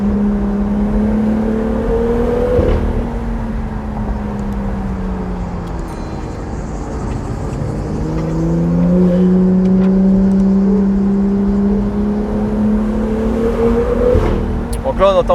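BMW M2 fitted with a catless VRSF downpipe, engine rising and falling through rev sweeps with a deep droning exhaust, loud and close, while people talk over it.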